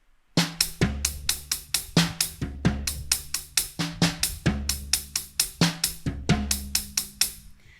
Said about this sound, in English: we'll do it, and bass on snare, but we'll do a little bit of a different pattern that Gary used to like